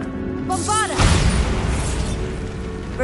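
Bombarda blasting spell explodes inside a tomb in the video game Hogwarts Legacy: a rising magical whine, then one loud close boom near the one-second mark that rumbles and crackles as it fades.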